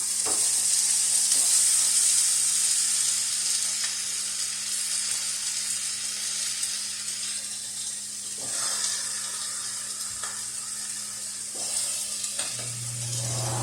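Onions and tomatoes lying flat side down in a hot pan for fire-roasted salsa give a steady, close sizzle and hiss throughout, with a few light clatters and a low hum near the end.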